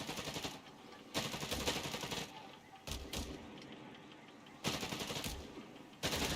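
MG42 machine gun from Company of Heroes 3 rattling off three or four sustained bursts, each about a second long, separated by short pauses, loud and close with dense rapid firing.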